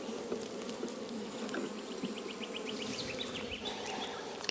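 Honey bees buzz around an open hive during an inspection, with a soft continuous hum and occasional closer passing buzzes, faint and steady throughout.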